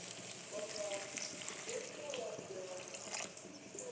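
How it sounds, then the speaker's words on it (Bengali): Water pours into a pot of vegetable curry with green banana, potato, eggplant and lentil fritters, a faint continuous splashing trickle that runs for several seconds under soft background noise. "এরপরে একটু জল ঢেলে দেবো"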